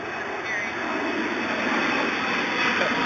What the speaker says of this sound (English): Oh, that poor plane is stuck in it. I can't see the plane. I hear it.